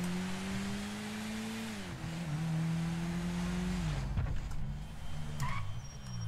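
A car revs and accelerates in a driving video game played with a generic controller on PC, a steady engine drone rising and falling in pitch, with a skid or tire squeal near the end, all without talk.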